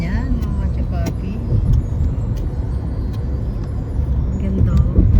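Road traffic with car engines rumbling steadily up close, a loud continuous low drone with brief metallic clicks and squeaks, and people talking over it.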